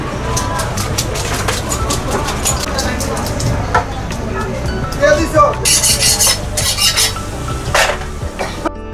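Kural and rupchanda fish being cut at a Mawa ghat fish market, with steady chopping and scraping knocks plus metallic clinks of pans and utensils, loud and close, while voices talk throughout.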